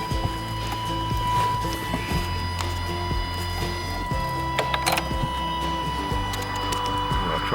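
A 1998 Chevy Vortec engine, left sitting for ten years, cranks in steady repeated strokes with mechanical clatter and a few sharp knocks as it briefly catches and tries to fire.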